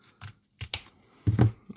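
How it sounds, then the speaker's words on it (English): Scissors trim along the edge of an adhesive micro SD card insert for a Steam Deck case, giving several crisp, close snips in uneven bursts with quiet gaps between them. "I'm just going to give it a good little trim here along the edge."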